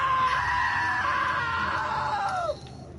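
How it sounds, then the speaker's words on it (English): A long, high scream in What Remains of Edith Finch rises, holds and then slides downward before cutting off, loud and close over a steady background hum. "Now that was a great scream."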